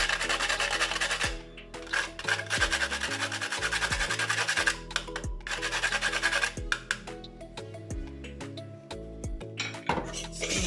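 Whole nutmeg is grated on the fine side of a metal grater over a bread and butter pudding mixture. Close, rhythmic rasping strokes repeat quickly, with brief pauses and light metallic clinks between them.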